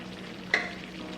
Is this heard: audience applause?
no